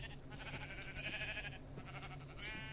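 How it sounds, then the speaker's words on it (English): Several blocky video-game sheep of different colors bleat in short, wavering calls, a few overlapping bleats standing out over a steady low game ambience with no talking. "A few different colors of sheep that I put in here."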